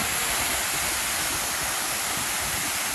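A mountain waterfall in Munsyari roars in a steady, dense rush of water that fills the air without a break.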